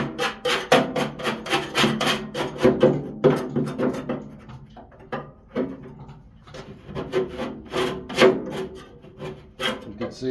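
A metal tool scraping inside a greasy pellet grill, short rough rasping strokes repeated in an uneven rhythm, close and fairly loud with brief pauses between passes.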